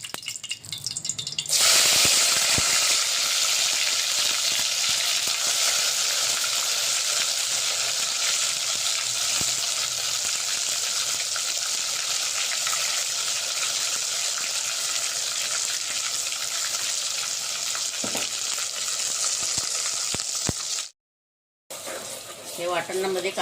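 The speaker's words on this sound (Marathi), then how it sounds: "आता हे तेल आपलं इथं गरम झालेलं आहे। 2 चमच तेल टाकलेलं आहे। यामध्ये तेजपान टाकलेलं आहे आणि हे त्यामध्ये वाटण टाकायचं।" Ground masala paste of onion, coriander and mustard seed sizzles loudly in two spoons of hot oil with a bay leaf, a steady continuous frying hiss for fish curry that runs almost unbroken before a brief cut.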